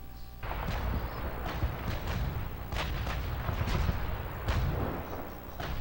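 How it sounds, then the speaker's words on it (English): Battle gunfire in the Call of Duty 2 video game: a dense, continuous wash of rumbling, muffled shots and thuds, with occasional sharper cracks rising out of the din throughout. "You can still hear those distant shots a little bit."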